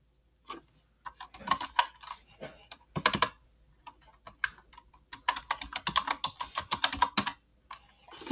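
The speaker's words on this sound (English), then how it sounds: "You type download" Quick, irregular clicking of keys as someone types on a Chromebook keyboard, close and crisp in short bursts separated by brief pauses, with no voices.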